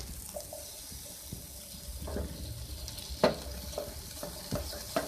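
Capsicum, carrot and tomato frying in a pan for chicken fajita vegetable spaghetti, a soft continuous sizzle broken by frequent sharp spatula clicks and scrapes as the vegetables are stirred, fairly quiet and close, with no talking.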